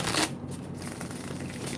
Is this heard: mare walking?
no